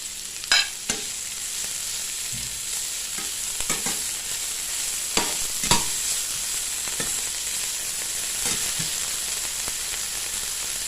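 Mackerel fried rice with fresh chili and cha-om stir-fried in a pan, a steady sizzle with occasional sharp clanks and scrapes of the spatula against the pan, close and alone with no talk.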